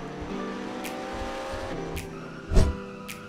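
Racing car in the Roblox game Palm Ridge, a steady engine drone with tyre squeal, and a sharp louder skid burst near the end.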